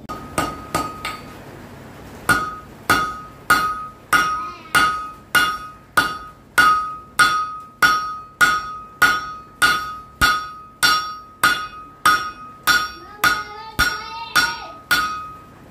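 A blacksmith hammers hot metal during forge welding at a heritage-village display in Wauchope, NSW, ringing out about two dozen loud, evenly spaced metallic strikes with bright clanging overtones, each followed by a short decay.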